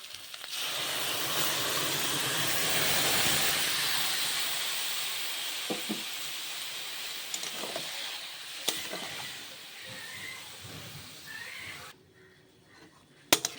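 Ginger, cumin, coriander, chilli and turmeric spices sizzle and hiss steadily in a pan with fried cauliflower, a loud continuous frying noise broken by a few faint clinks, no talk.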